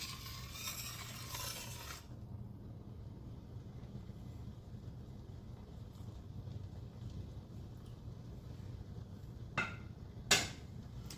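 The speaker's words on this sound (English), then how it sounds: "You want to stir your pasta every now and then." Whole wheat pasta is stirred in a pot of water with a soft, faint churning swish. A brief burst of noise comes first, then a quiet stretch before a couple of light spoon knocks near the end.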